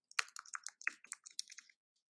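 Quick run of clicky key presses on a computer keyboard as a web address is typed into a new browser tab, about a dozen close, crisp taps in an uneven rhythm, alone and fairly quiet.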